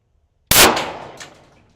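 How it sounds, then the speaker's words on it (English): A single sharp 9mm Glock 19 pistol shot rings out, followed by a bright metallic clang as the round strikes a steel plate, with a short ringing decay and a faint second ping of fragments. "you can hear that shrapnel coming back a lot more than usual"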